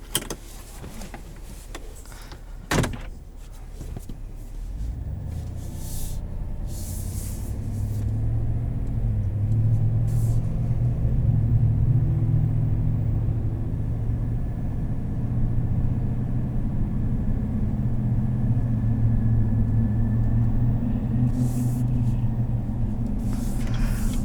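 A 2020 GMC Sierra 1500 AT4 pickup with a 6.2-litre V8 pulls away and cruises, its engine a low steady rumble heard from the cabin after a few clicks and a thump at the start, without any talking.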